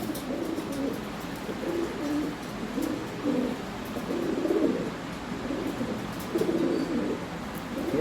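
Lahore Sirazi pigeons coo in soft, repeated low rolling calls, several birds near and moderately loud, the cooing rising and falling in bursts over a quiet background.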